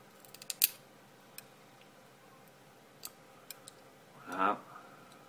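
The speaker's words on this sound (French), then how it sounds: "on va couper ici, donc à ras du plateau." A few sharp snips from cutters trimming vape coil wire flush against a rebuildable atomizer deck, with one loud clip early and fainter ticks after, close up.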